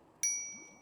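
A single bright ding from the bicycle bell on a Wired Cruiser eBike, struck once and ringing out with a clear, slowly fading metallic tone.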